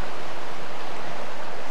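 A river rushes steadily beside a bridge in a quiet landscape, a loud, broad, unbroken wash of flowing water close by with no voices.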